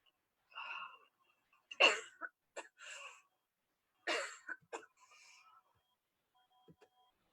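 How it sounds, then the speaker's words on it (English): People cough in several short harsh bursts, a sudden blast followed by a few quicker ones, then another loud cough after a pause, fairly close, with quiet gaps between. "why are we coughing right now?"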